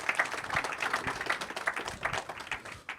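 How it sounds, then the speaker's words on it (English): Audience applause at a technology conference, a fairly quiet, uneven patter of clapping hands from a modest crowd, with individual claps standing out through the three-second burst. "Please, a round of applause, ladies and gentlemen."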